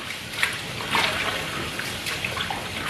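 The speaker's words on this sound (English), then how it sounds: "I wash my rice with hot water a bit." Hot water runs and splashes steadily with small sloshing bursts, like rinsing rice in a bowl under a flowing tap, close and moderately loud.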